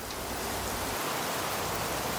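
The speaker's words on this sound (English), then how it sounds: "it went back to rain and sleet" Rain mixed with sleet falling outside a farmhouse during the season's first snowstorm, a soft, even hiss of steady precipitation heard alone without talk.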